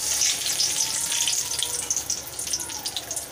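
Bay leaf dropped into hot oil in a wok gives a loud hissing sizzle that crackles steadily and fades slightly, heard close with no talk.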